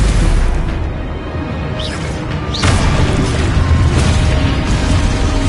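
Spell blasts and explosions in the PS5 game Hogwarts Legacy, loud booming bursts layered over a dense rumbling battle bed, with sharp whooshing impacts near two and a half and four seconds.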